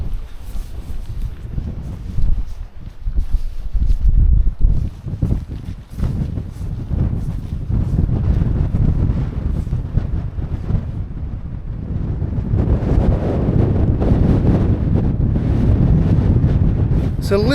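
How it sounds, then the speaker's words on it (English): Strong gusting wind buffets the microphone at a windy campsite, a continuous low rumble with irregular blasts that swells louder toward the end; there is no talk. "It's a little bit windier here."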